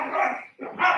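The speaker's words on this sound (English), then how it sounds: "If you hear my dogs barking and" Several dogs bark in a loud, continuous burst at close range, a brief lull breaking the barrage before the barking surges again, their morning energy on display during a home workout session.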